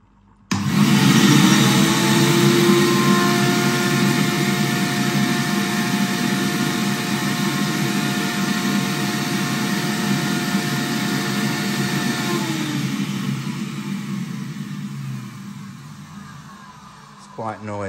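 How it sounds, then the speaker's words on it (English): A Pro-Ject VC-E2 record cleaning machine vacuums a spinning vinyl record, a loud, steady motor whine with a broad suction hiss that starts abruptly and runs continuously, easing slightly near the end. "Okay, so we're ready to vacuum it now."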